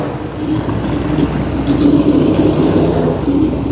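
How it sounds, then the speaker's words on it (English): A dragster engine goes off in the background at the GM Nationals car show at Carlisle Fairgrounds, a steady, heavy low rumble that swells slightly in the middle. "You can hear that dragster going off in the background there."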